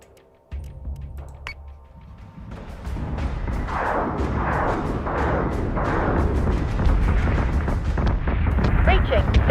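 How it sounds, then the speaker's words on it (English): Missiles launching in the space combat game Battlestar Galactica Deadlock, a rising roar of repeated whooshing bursts and rumbling booms building steadily in intensity, with a voice speaking partway through. "The fact that it can fire its missiles that far is insane."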